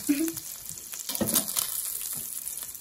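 Bacon fries in a Saladmaster skillet with a continuous crackling sizzle, faint but steady, with a couple of brief murmurs of voice over it.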